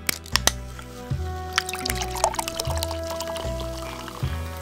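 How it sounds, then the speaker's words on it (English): Homebrewed Mexican lager being poured into a tall glass, a steady liquid pour with foamy fizz and soft sloshing, close and fairly loud with no talking. "I poured it in this ridiculous glass that really accentuates the carbonation."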